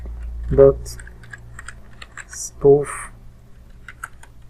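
Computer keyboard typing while entering commands for a man-in-the-middle network attack: sparse, soft key clicks under two short bursts of speech in a quiet room.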